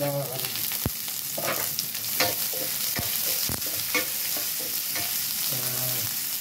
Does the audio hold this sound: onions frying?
yes